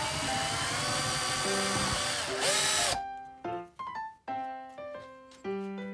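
A power drill whines loudly as it bores a hole during electrical and bodywork on a Honda Cub AA01, a sustained high spin that stops after about three seconds, then several short bursts of whirring.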